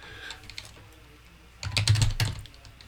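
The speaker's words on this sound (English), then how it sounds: "I can type in localhost" Keys clatter on a computer keyboard while typing into a web browser, a few soft taps early on, then a quick close burst of keystrokes, fairly quiet overall.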